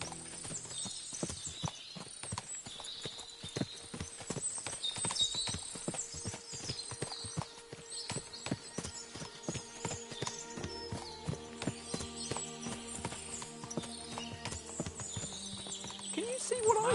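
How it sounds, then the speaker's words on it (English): Many horses clopping in Kingdom Come: Deliverance, with dense irregular hoofbeats on the ground, an occasional whinny, and distant game voices and ambience throughout. "What a lot of horses!"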